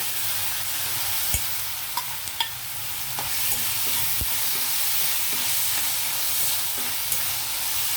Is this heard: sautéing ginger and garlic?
yes